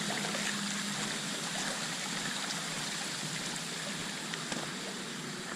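Floodwater pouring into a filling pond, a steady broad rushing and trickling wash that holds an even level throughout, close and continuous with no talk.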